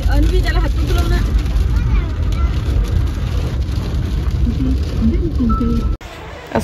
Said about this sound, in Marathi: असा छान पाऊस आम्हाला म्हणजे जाताना लागलाय